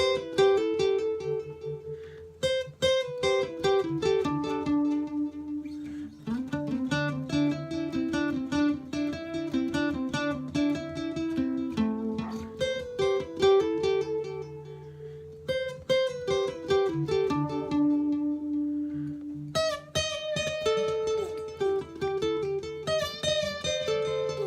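An electric guitar solos a lead part over a loop-pedal loop: quick runs of picked and pulled-off single notes over a steady repeating low backing, moderately loud and close, with short gaps between phrases and no talking.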